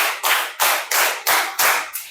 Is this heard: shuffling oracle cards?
no